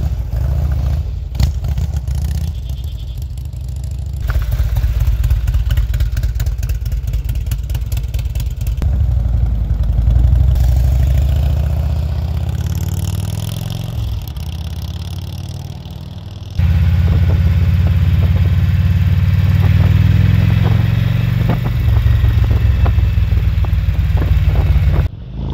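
A Harley-Davidson Electra Glide bagger motorcycle engine rumbles steadily and loudly during a ride, its tone swelling and easing with throttle changes and a clear jump in intensity near the end.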